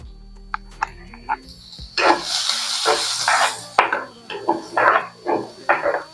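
Onion frying in ghee in a pan, sizzling in bursts with stirring and a few clinks of utensil against the pan, close and fairly loud.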